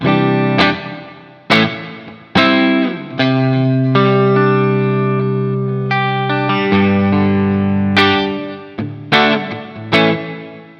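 Reverb-soaked electric guitar chords and notes through a plate reverb pedal, struck about a dozen times, each ringing out with a long, smooth decaying tail; no voices.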